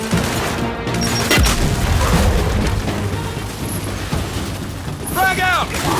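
Booming frag grenade blasts and rattling gunfire from the Gears 5 video game, loud and dense across the whole stretch, with a voice talking over the battle.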